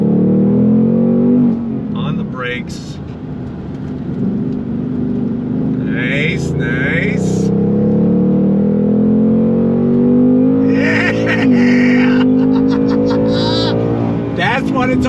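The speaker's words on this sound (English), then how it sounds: "sound of that Voodoo engine" A Ford Mustang Mach 1 with its Voodoo V8 revs and accelerates hard, the loud engine rising in pitch through several gear pulls while people talk over it.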